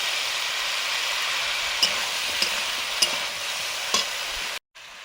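Vegetables frying with a spice mix in a pan after a splash of water, a dense, even hiss with a few light utensil clicks, cutting off abruptly near the end.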